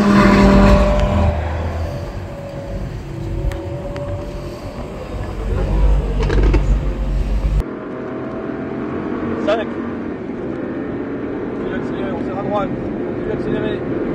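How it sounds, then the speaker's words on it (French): Engine noise from a car accelerating on a track during a driving course at Folembray, with a steady motor drone that swells and shifts as the throttle is reopened, close and fairly loud, under in-car talk. "Et on reprend les gaz."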